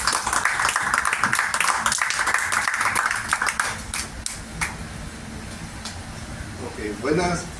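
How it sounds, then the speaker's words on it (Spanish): Applause from an audience at a talk on UFOs, a dense burst of clapping for about four seconds that fades into quieter room noise with a few murmurs at the end. "Vamos a recibir con un fuerte aplauso a Luis Cap."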